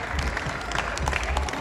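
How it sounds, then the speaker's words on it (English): An audience at a festival stage claps in a dense, continuous round of applause, loud and close, with crowd murmur mixed in. "Give her a round of applause"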